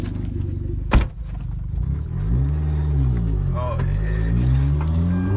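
A tuned RSPEC Hyundai Genesis Coupe with a freshly tightened boost charge pipe idles and pulls off on a test drive, a steady low engine drone with a sharp thump near the start, while people talk over it.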